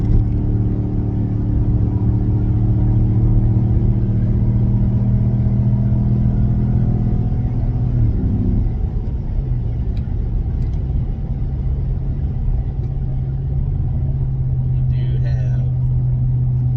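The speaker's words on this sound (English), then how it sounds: "I will see how she does under full acceleration" A 2018 Chevrolet Silverado 1500 LT Z71 pickup under full acceleration, its engine a loud, steady low rumble heard from inside the cab, with the tone shifting partway through and someone talking over it.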